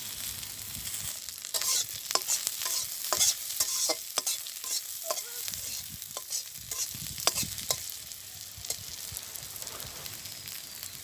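Chopped onion, green chilies and whole cumin seeds frying in a pan in a village kitchen, a soft continuous sizzle broken by repeated scraping stirs of a spoon, close and fairly quiet.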